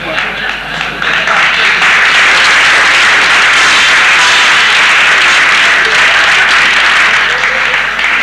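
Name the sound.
audience clapping at a comedy show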